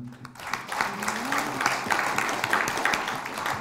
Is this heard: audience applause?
yes